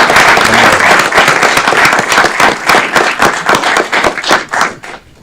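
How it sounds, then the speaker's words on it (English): An audience applauds at a celebration, dense steady clapping that holds strong for about four seconds, then thins into scattered claps and fades out near the end. "Let's give her another round of applause."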